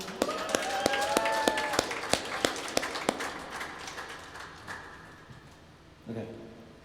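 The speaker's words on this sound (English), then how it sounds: "Round of applause for Ivan Bloom." Audience applause at a cowboy event, with sharp individual claps ringing out in a quick rhythm over a sustained tone, then thinning to scattered claps and a brief burst of voices near the end.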